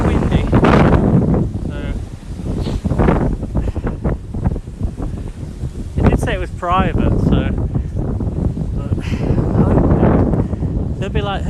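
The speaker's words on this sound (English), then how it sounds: "It's just gone very windy." Strong gusts roar across the microphone on a winter walk through woods, buffeting loudly throughout while a person talks over the wind.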